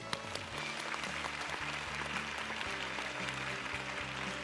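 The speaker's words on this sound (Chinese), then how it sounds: "掌声欢迎" A studio audience applauds steadily for a medical expert walking onto a Chinese health talk show set, dense continuous clapping at an even, fairly loud level throughout with no voices over it.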